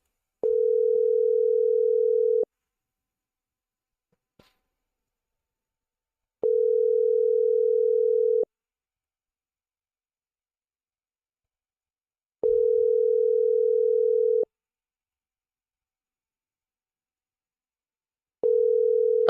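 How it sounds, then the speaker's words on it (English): A telephone line rings out while a call is being placed: a steady low electronic tone sounds for about two seconds, then four seconds of silence, repeating several times, clean and alone. "Let me call Heinz and hear what he had to say"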